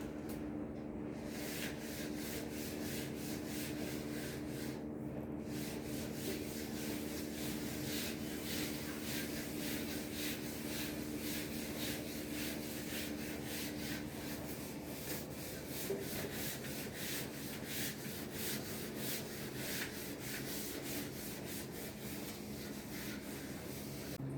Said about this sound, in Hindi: तो हम इसको रब कर देते हैं।